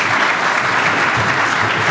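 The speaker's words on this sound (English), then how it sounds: "let's have a big round of applause for the real thing" A conference audience for a talk on the bioeconomy claps together. The dense, even applause holds steady and close throughout the short burst.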